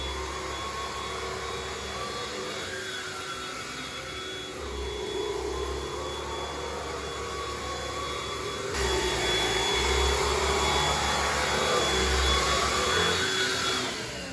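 Philips Speed Pro cordless vacuum cleaner running steadily with a high-pitched whine and airy rush, close and continuous, growing slightly louder partway through, with no talking.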